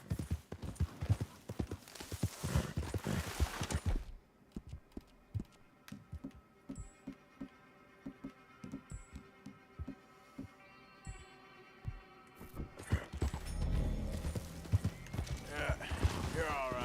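Horse hooves from a video game clip-clop in a steady rhythmic trot, briefly pausing and then resuming, while a person talks over parts of it.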